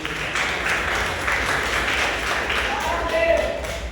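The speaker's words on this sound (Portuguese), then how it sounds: "Quem pode aplaudir ao nome do Senhor dessa noite?" Congregation applauding during an evening service at a Baptist church, a steady wash of many hands clapping throughout with a voice speaking over it.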